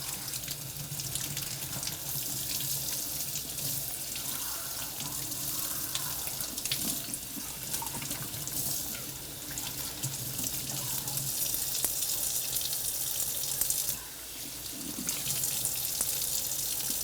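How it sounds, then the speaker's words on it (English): Tap water runs steadily into a sink while a Bissell Little Green portable carpet cleaner tank is rinsed, a continuous splashing hiss lasting throughout with a brief dip near the end. "I think I have just about enough water to be able to rinse this out"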